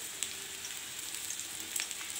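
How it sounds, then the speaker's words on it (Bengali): Taro pieces fry in a pan, turning lightly golden, with a soft, even sizzle and a couple of faint ticks, quiet and close. "ভাজাটা দেখুন একটু একটু লাল লাল হয়ে এসছে হালকা"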